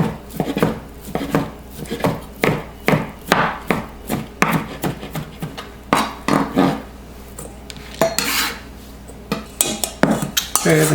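Chicken salad is mixed in a bowl, with a spoon or utensil knocking and scraping in quick, uneven strokes, close and clear with no talking.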